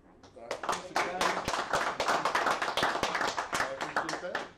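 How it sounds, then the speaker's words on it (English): Smaller audience at an OWASP AppSec EU 2018 leaders meeting gives the OWASP staff a round of applause, distinct individual claps close by forming a brisk, uneven patter that fades toward the end. "give the OWASP staff a big round of applause"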